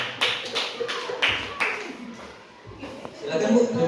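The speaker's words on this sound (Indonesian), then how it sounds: "terima kasih tepuk tangan untuk Ibu Sawit ya Bu" A small group claps for Ibu Sawit at an indoor gathering, a few uneven bursts of hand claps that fade out midway and then pick up again with light chatter and laughter underneath.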